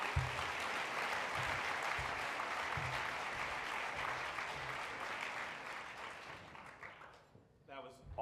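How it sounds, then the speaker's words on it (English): A big round of applause from a conference audience celebrating food waste reduction grantees: dense, steady clapping that fills most of the stretch, then tapers off near the end as a voice returns. "Give them all a big round of applause."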